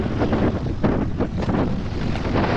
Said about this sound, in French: le vent rentre. Donc, tu vois, on en prend plein la gueule